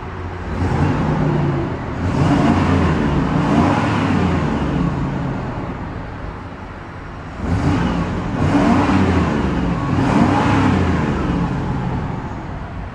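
1994 GMC Vandura G2500 conversion van engine revved twice, each burst rising from idle to a loud throaty roar and easing back, with a quieter idle between the two pushes.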